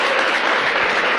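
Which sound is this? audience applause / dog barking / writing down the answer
audience applause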